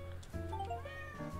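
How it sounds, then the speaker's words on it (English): A kitten in the video game Hidden Cats in New York gives a single short, high, clear meow that stands alone at low volume. "there's a kitten underneath him as well"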